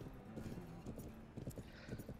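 A strong horse's hooves clip-clop in even, rhythmic beats in the Planet Horse video game, steady and fairly quiet over a low background hum.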